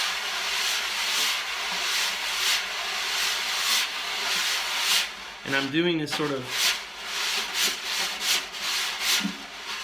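Jazz brushes sweep in a slow circular pattern across a drum head, producing a steady rhythmic swishing hiss with soft pulses, while someone talks briefly in the middle.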